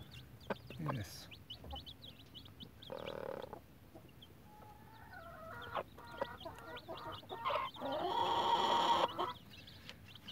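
A hen with her five-day-old chicks clucks softly while the chicks peep in high, thin chirps, scattered calls close by with a burst of louder chirping near the end.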